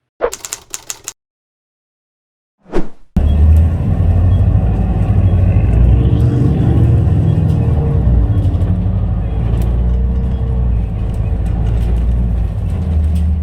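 Aboard a King Long 6125CG bus, a steady low engine rumble and road noise fill the cabin after a few brief clicks and a pause, continuing evenly with faint rattles on top.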